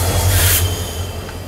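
The Chalukya Express, running from Pondicherry toward Dadar, rolls past a station platform with a loud, broad rumbling roar and low droning hum, close by and fading slightly.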